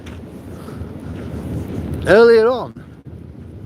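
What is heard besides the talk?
wind blowing outdoors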